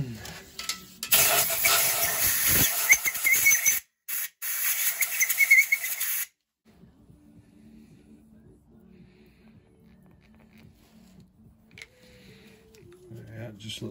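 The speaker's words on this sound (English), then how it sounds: "spray a bit of brake cleaner in the hole, get a little scrub with the brass brush" Aerosol brake cleaner hisses loudly into a hole in a 1920 Lister Q Type engine cylinder head, in two bursts split by a short gap, then stops; quieter brass-brush scrubbing and faint handling noises follow.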